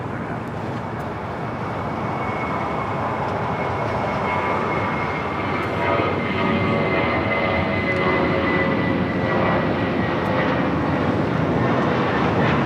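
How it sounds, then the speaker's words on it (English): A Spirit Airlines Airbus A320 takes off from runway 25 right at Los Angeles International Airport, its jet engines a loud, steady roar that builds gradually and holds throughout. "Up next for takeoff is Spirit Airlines Flight 631, heading to Atlanta, Georgia. It's an A320."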